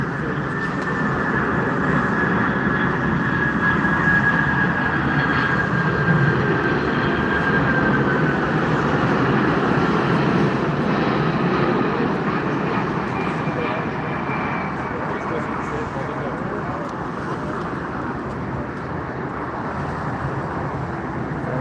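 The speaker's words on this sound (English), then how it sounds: "China Eastern also took off" A China Eastern airliner takes off at Frankfurt Airport, its jet engines making a steady, loud roar that holds for about twenty seconds with a faint high whine, all at a distance.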